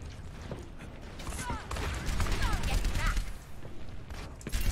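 Soldier: 76 gunfire in the video game Overwatch, on the Lijiang map, heard as a rapid burst of rattling shots swelling through the middle with mechanical clicks and clatter, mixed with game effects.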